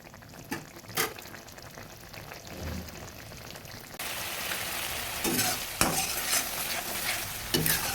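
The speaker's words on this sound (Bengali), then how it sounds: "মশলাকে ভেজে নিচ্ছি।" Spice masala for a baby banana curry fries in a pan while being stirred, giving a continuous sizzle with scraping spoon strokes that grows louder and denser in the second half.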